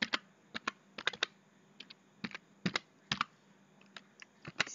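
Fingers type an Excel formula on a computer keyboard, close and crisp, producing irregular bursts of quick key clicks with brief pauses between groups over a faint steady hum.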